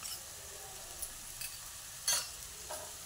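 Onion with asafoetida, cumin powder and coriander powder sautés in a pan with a soft, low sizzle, broken by a few brief scrapes of stirring, the loudest near the end.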